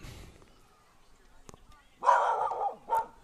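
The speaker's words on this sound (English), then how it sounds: "And we apparently have a dog parade behind us," Dogs bark behind a baseball field, two loud close bursts of yapping near the end after a quiet stretch with faint talk and a sharp click.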